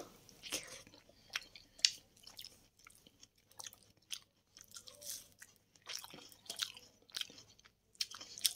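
Close, quiet chewing and biting of rice with dal and fried eggplant fritter, soft irregular crunches and mouth sounds with brief pauses.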